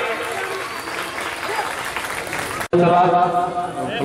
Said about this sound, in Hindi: सभी बच्चे ताली बजाएंगे करके।